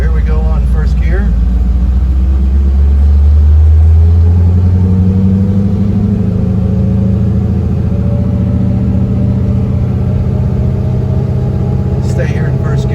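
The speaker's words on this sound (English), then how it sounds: "Stay here in first gear for just a moment. Get a good idea how it sounds." The engine of a 1966 Chevrolet Nova restomod with a manual transmission runs in first gear, a deep, steady rumble that swells briefly before settling, heard close from inside the car while someone talks over it.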